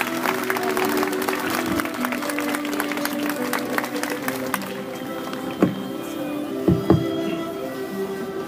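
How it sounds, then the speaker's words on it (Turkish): A crowd at a stage event in Beşiktaş applauds steadily to welcome a speaker, loud and dense at first, then thinning to scattered claps with a few sharp knocks. "Sayın Atol Behramoğlu, çok büyük alkışlarınızla sahneye davet etmek istiyorum"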